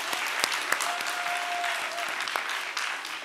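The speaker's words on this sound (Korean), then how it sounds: "200명 박수치고." Steady audience applause fills a church new-family invitation seminar in Incheon, a dense wash of clapping hands at even loudness throughout, with a few sharper individual claps standing out and a faint sustained tone briefly riding underneath.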